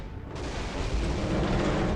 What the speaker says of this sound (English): those bombs look like they will hit